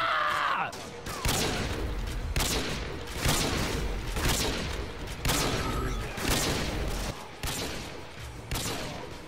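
Sustained assault rifle fire in Call of Duty MW2 comes in loud, repeated volleys that continue almost without a break through the whole stretch.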